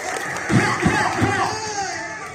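Audience noise rises after a sixth-grade school cabaret performance, with a crowd cheering and calling out in several loud swells over roughly two seconds.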